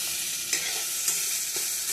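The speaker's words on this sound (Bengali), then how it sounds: "আমি একটু সর্ষের তেল দিয়ে কড়াইয়ে ভাজা ভাজা করে নিই" Food frying in mustard oil in a kadai gives a continuous bright sizzle, with a few soft stirring knocks over the hiss.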